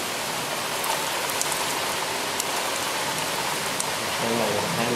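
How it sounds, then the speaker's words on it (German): Heavy thunderstorm rain pours down in a dense, loud, continuous roar, with scattered drops striking nearby surfaces and a faint low sound at the end. "Boah, das regnet übelst."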